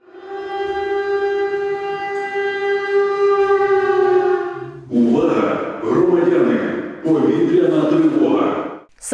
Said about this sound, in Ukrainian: сигнали повітряної тривоги